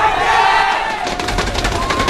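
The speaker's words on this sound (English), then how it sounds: "Crowd goes wild." A packed, standing-room-only crowd at a StarCraft 2 GSL match roars and cheers wildly, a loud, sustained wash of voices that swells and stays intense throughout.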